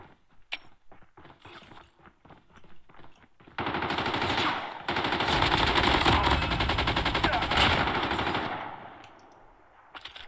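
Automatic weapon fire in the mobile shooter Call of Duty Mobile: a few sparse shots, then long loud sustained bursts lasting several seconds before tapering off, with no talk over it.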